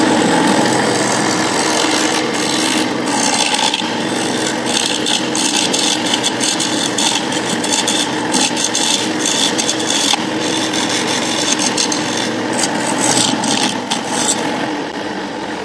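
A chisel turns a pen from cracked aroeira wood on a handmade lathe, giving a continuous loud scraping rasp with quick choppy catches, close by and without talk.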